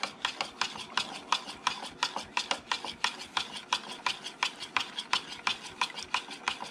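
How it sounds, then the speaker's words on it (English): A spoon stirs sausage ball mixture of butter, eggs and sour cream in a bowl, making a steady run of close, brisk scraping strokes at a quick even rhythm, with no talking. "then we're just going to give that all a stir"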